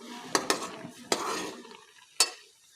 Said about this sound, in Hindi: तो अभी हम थोड़ी देर और चलाते हैं चम्मच इसी तरह।